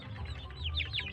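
Free-range village chickens clucking softly at close range, a few short chirpy calls bunched together in quick succession over a low steady background hum.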